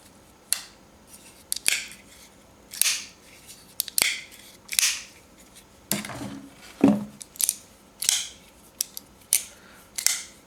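Repeated sharp metallic snicks from a titanium Wilkins Grip folding knife being opened, about a dozen crisp clicks spaced roughly a second apart, close and clear with no talk.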